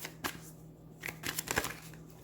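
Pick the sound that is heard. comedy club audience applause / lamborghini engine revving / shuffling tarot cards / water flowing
shuffling tarot cards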